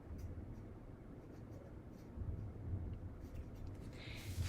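A pen writes on paper with soft, faint scratching strokes in a quiet room, steady and close but low in level.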